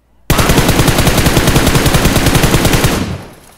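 Sustained automatic gunfire from a rifle in PUBG Mobile, a loud rapid rattle of shots running continuously for about three seconds before cutting off.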